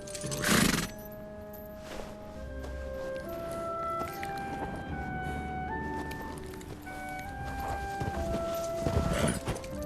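A horse whinnies loudly near the start, then soft shuffling and low snorting continue over a steady faint tonal hum.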